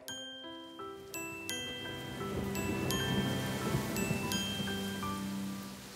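Rain falling, a steady wash of patter that builds and holds, with bright chime-like tones ringing over it.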